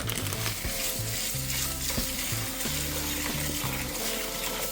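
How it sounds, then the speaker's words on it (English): Rice is washed in water for a curry goat meal, with steady sloshing, swishing and running water close up under low background music, and no talk. "So we just go wash the rice real quick."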